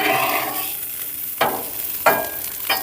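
Breakfast sandwiches sizzling on a gas griddle, a steady close fry with three sharp scraping flips of a spatula spaced about a second apart, no voices.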